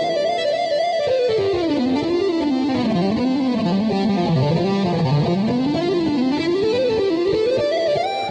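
Electric guitar played in smooth legato runs through distortion with heavy reverb and delay, notes winding up and down and blurring into a continuous echoing wash, loud and unbroken for the whole stretch.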